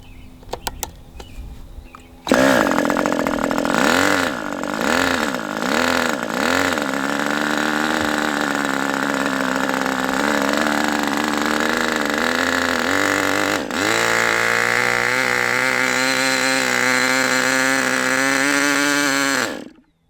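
A Raduga 10RU model engine on its first run, throttled back to low speed, kicks in after a short quiet start and runs as a loud, buzzy, wavering drone with a pitch dip near the end before cutting off.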